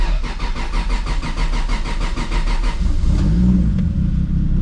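Toyota Supra MKIV with a low battery cranking slowly in a rapid pulsing rhythm for about three seconds before the engine catches and settles into a loud, rough idle rumble, close by.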